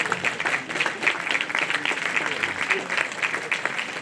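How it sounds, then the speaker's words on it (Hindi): Enthusiastic audience applause for award winners at a college annual prize distribution, a crowd clapping steadily with uneven bursts, somewhat distant in a large hall, with a faint voice audible beneath the clapping. "जोरदार तालियों से सभी अवार्ड विनर्स का अभिनंदन करें।"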